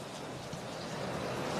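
Steady rain falls over an outdoor country football match, a dense continuous hiss with no breaks and no voices heard, close and moderately loud throughout.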